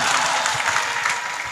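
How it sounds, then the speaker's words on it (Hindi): Brief, dense applause from the audience at a mushaira poetry gathering, a continuous wash of clapping with no pause. "फिर से एक मर्तबा अपने लिए आप लोग तालियां बजाएं"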